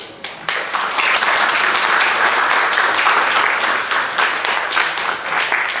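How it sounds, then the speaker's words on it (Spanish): An audience at a history lecture breaks into loud, sustained applause, dense clapping that swells quickly and holds steady. "les pido que le demos un fuerte aplauso"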